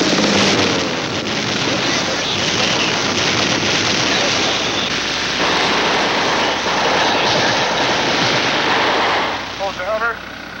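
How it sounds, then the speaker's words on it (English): Fighter plane engines roar overhead in a Vietnam War combat setting, a loud, continuous rumble that fills the whole clip, mixed with what may be gunfire and a voice near the end. "Fighter planes are called in to give protective fire."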